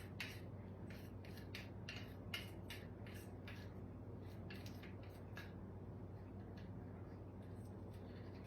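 A knife scraping pound cake batter off a mixer paddle, giving a run of quick, light scratchy strokes in an irregular rhythm, close by and fairly quiet over a steady low hum.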